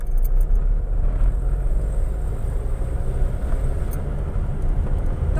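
A car drives in second gear, giving a steady low engine drone and road rumble that holds constant and fairly loud from start to finish.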